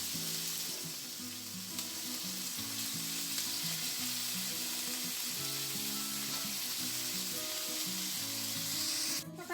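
Marinated pork liempo fries in a pan with a steady, close sizzle and crackle that holds at an even level throughout, with no talking.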